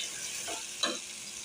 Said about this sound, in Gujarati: સિંગ તેલ લીધું છે મેં, અને એમાં જીરું આવી ગયા પછી આપણે નાખીશું ટમેટાં